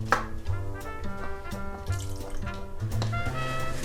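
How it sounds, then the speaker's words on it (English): Water trickles and drips as jars of home-canned tomatoes are topped off, a soft, uneven pouring with small splashes and ringing drips, close but quiet, with a faint tonal hum underneath. "I'll just top those off with a little bit of water."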